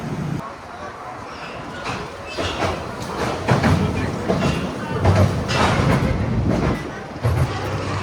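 A roller coaster train at Six Flags Over Texas rolls along its track, a steady rumbling clatter with occasional rising swells and a squeal, heard from a distance with no talk over it.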